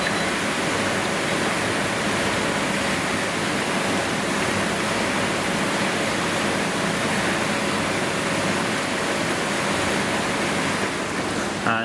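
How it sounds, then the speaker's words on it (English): Passthrough dishwasher wash pump spraying water over plates during the wash cycle, a loud, steady, continuous rushing hiss of water filling the space without break. "And your wash pump will now kick into life."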